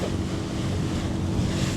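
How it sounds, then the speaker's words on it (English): Strong wind blasts steadily across a microphone on the Isle of Mull coast, a loud continuous roar with rumbling low buffeting and surf-like hiss throughout, no voices. "Pretty windy now, isn't it, Mike?"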